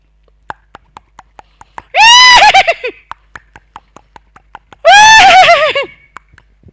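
A mimicry artist imitates a horse at a stage performance, voicing two loud, wavering whinnies a few seconds apart. Sharp tongue clicks mimicking clip-clopping hooves tick steadily before, between and after the neighs.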